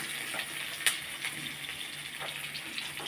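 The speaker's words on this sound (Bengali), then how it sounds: "টমেটো কুচিগুলোও দিয়ে দিলাম" Chopped tomato hits hot oil in a pan with frying amudi fish, giving a steady crackling sizzle with a sharper burst as it lands, close and fairly loud with no talking.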